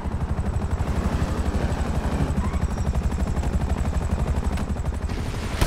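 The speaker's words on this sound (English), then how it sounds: "Chopper." Helicopter in Grand Theft Auto V, a loud continuous rotor chop pulsing steadily throughout, close and dominant, with a brief sharper burst near the end.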